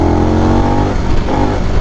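A Harley-Davidson Pan America adventure motorcycle in third gear and sport mode revs hard around 4,000 RPM, a loud, steady engine drone with a harmonic tone heard close up.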